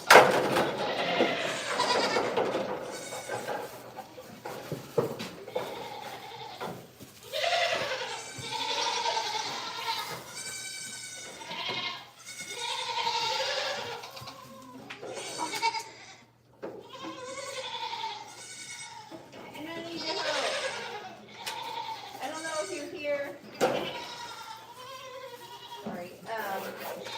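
Goats in a straw-bedded barn bleat again and again, loud and close, with a young goat among the big goats; the calls come in quick, uneven bursts separated by brief pauses.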